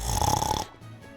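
A single loud, grunting snore, rough and pig-like, rumbles for just over half a second during sleep and then drops to quiet room tone.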